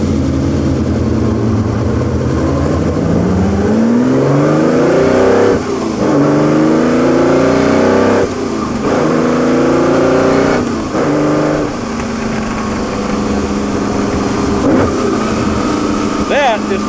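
A Ferrari V12 accelerates on an open road at Amelia Island, the engine climbing through several gears with rising howls and brief dips at each shift, loud and close, with a voice talking over it.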